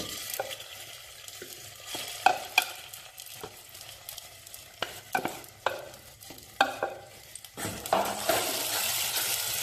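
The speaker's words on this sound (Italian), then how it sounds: "Sentite come cominciano a sfrigolare?" Vegetables tipped into hot oil in a saucepan for a vegetable ragù, sizzling and frying steadily while a utensil stirs and scrapes the pan with scattered clinks, close and clear with no talk.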